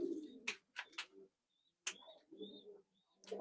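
Soft cooing from Andra and Madrasi pigeons close by, a few low calls, alongside sharp scratchy flutters and brief faint chirps.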